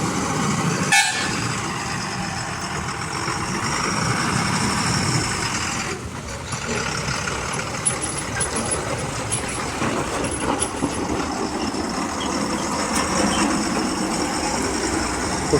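A loaded truck pulls away past a house after a breakdown, its engine a continuous rumbling drone with a sharp knock near the start, a horn toot and faint high tones further on, with no voices.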